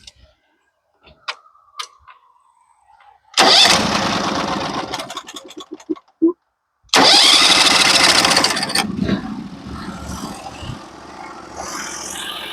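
The engine of a Norwood HD36v2 sawmill is started: quiet ticking and clicks, then a loud cranking burst, a short pause, and the engine catching and running close by.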